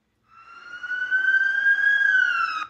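A police car siren rises in after a brief silence and holds a single sustained wailing tone, loud and clear, then cuts off sharply at the end with no speech.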